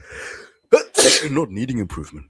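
A person sneezes once, sharp and close, right after a brief bit of speech, and talking resumes immediately afterward.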